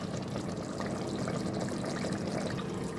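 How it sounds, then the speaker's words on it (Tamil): Steady rush of water being poured into rice for chicken biryani, a continuous even flow heard up close and alone. "இப்போ மூணு கப்பு தண்ணி ஊற்றிக்கிறேன்"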